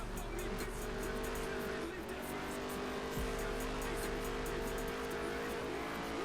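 Race car engine droning steadily at high revs in NASCAR Heat 3, a slow stock car held back near the pack, with tire noise and other cars around it, loud and continuous throughout.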